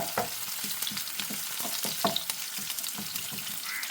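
Ginger, garlic and green chillies sauté in oil for a soya chunk pickle, a close, steady sizzle broken by frequent rhythmic stirring scrapes and taps throughout.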